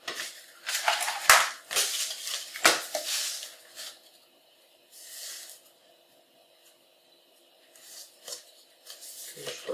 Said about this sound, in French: Et après, je vais couper au cutter